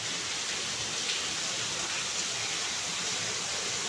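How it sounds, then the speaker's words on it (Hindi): Heavy morning rain pours down outside in a steady, dense hiss that fills the whole clip, with no voices over it. "बहुत ज़्यादा तेज़ बारिश हो रही है"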